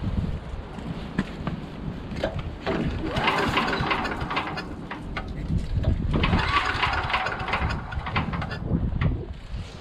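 A Tecumseh 5HP engine powering a wood chipper lawn vacuum runs steadily at fast throttle, a loud continuous buzzing drone with a rough, uneven texture that swells and dips slightly, close to the microphone.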